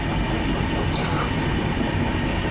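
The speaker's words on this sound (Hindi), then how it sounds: "ट्रेन अभी एंटर हो रही है खड़गपुर पे" The Gitanjali Express rolls into Kharagpur station with a continuous loud rumble of wheels and carriages and a brief high squeal of wheels on rails.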